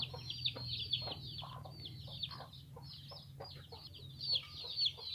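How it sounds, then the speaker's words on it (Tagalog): A hen clucks steadily nearby while her nine chicks peep in high, continuous chirps over a low background hum. "yung isang inahin na to meron siyang siyam na sisiyo"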